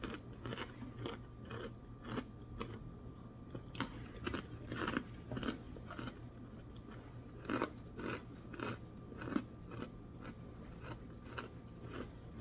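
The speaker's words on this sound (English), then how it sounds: "I always gotta have my little fortune cookie, guys." Close, quiet bites and crunches of a fortune cookie, a steady series of crisp snaps and chewing crackles over a low background hum.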